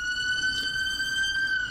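A fire engine siren wails steadily and loudly nearby, a sustained tone held throughout as the vehicle passes, with faint traffic noise underneath.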